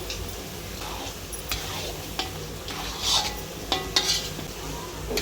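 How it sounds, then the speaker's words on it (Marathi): Spice masala with chilli powder and chutney sizzles in oil while being stirred and roasted, a steady frying hiss broken by scraping strokes and a few sharp clinks of the spoon against the pan. "व्यवस्थित हलवून एकत्र मिक्स करून भाजून घ्यायचं।"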